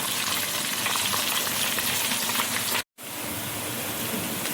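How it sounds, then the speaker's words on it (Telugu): Ginger fries in hot oil for a chicken curry, a dense, steady sizzle up close that cuts out briefly for an instant, then resumes at the same level. "నూనెలో గోలియాలని చెప్తే నూనెలా మంచిగా గోలియాలండి"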